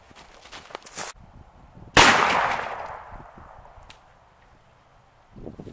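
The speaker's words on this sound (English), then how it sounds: "We've got our Henry here again today, chambered in 44 Magnum, shooting a 240 grain bullet." A Henry lever-action rifle chambered in 44 Magnum fires a 240 grain hollow point bullet outdoors, a single loud sharp report with a long decaying ring, after some quieter handling noise.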